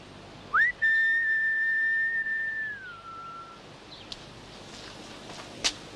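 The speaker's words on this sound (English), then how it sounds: "I whistle your name when I come" A person whistles a single sustained clear note that rises sharply at the start and glides down lower before fading, alone over faint outdoor background.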